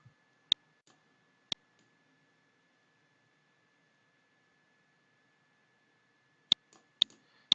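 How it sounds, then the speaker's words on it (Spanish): Sharp, faint computer mouse clicks come in isolated pairs and singles, a couple early and a quick cluster near the end, separated by near silence. "Clic derecho y acotamos."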